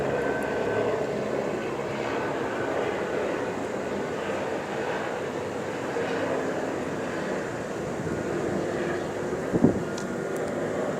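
A helicopter flying in circles overhead beside a community library at evening, a steady, loud engine drone that holds evenly throughout with no other sounds standing out.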